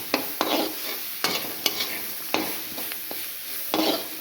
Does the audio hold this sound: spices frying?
yes